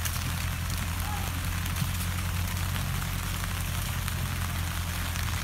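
Steady rain falls in a Gala apple orchard in Washington as a dense, continuous hiss of drops on leaves and surfaces, with a low rumble underneath and no clear speech.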